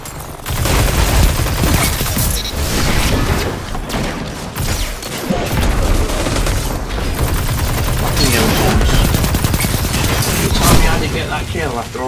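Dense, continuous gunfire and booming blasts from a Destiny 2 Iron Banner match, including shotgun shots, fill the whole stretch, loud and chaotic, with a voice talking over the fighting.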